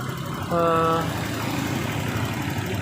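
A Honda Vario Beat scooter engine idles, faulty with an idling-stop system that fails to shut it off, holding a steady low hum close by while someone talks over it.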